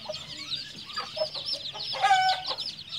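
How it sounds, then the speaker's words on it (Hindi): A cluster of Silkie chicks cheeping and peeping close by, high thin chirps overlapping in a busy, continuous chorus. "ये देख पा रहे हो, ये सील मुर्गी के चूजे हैं।"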